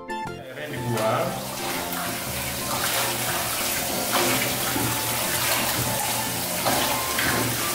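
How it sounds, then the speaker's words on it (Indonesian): Bath water being poured out of a tub while a long-haired Persian cat is bathed during grooming, a steady close rush and splash of draining water throughout. "Airnya dibuang."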